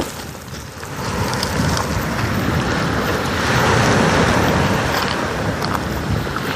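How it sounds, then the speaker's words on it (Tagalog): Steady rushing wash of sea water with a gusty, windy roar, continuous and fairly loud throughout, no voices, at a beach in Lobo, Batangas. "maririnig niyo po yung pagaspas ng alo ng dagat, yung tubig."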